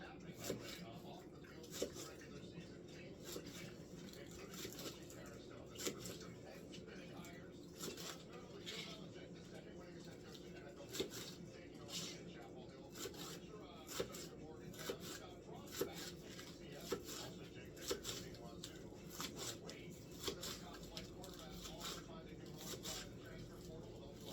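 A knife slices through an onion, quiet, regular taps and cuts against a board in a steady rhythm, faint and close, with no voice in this stretch.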